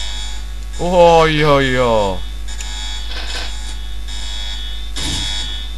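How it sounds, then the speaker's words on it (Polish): An alarm sounds in the video game Postal 2 as a steady, high electronic tone over a constant low mains-like hum, with a man briefly exclaiming near the start. "Alarm się włączy."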